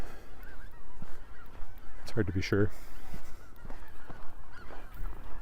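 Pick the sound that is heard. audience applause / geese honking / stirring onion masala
geese honking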